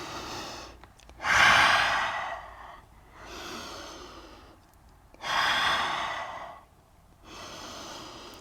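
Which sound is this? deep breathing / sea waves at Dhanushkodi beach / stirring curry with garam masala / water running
deep breathing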